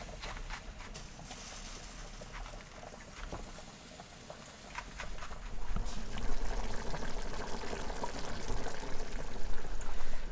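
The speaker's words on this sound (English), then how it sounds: "I might have to pour some of this water out" Water poured from an overfull soup pot of vegetable beef soup, a continuous splashing pour that grows louder and heavier partway through, with no talking.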